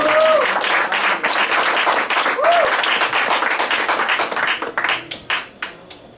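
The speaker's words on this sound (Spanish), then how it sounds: "Denle un fuerte aplauso a Dios." Church congregation applauds God loudly during a Spanish-language sermon, dense clapping that rolls on for several seconds then breaks into scattered individual claps as it fades out.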